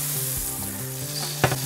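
Large king crab legs sizzle in a hot pan, a continuous close frying hiss with a brief louder crackle near the end.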